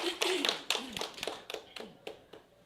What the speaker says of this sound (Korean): 축하한다고 좀 박수를 한번 보내주십시오.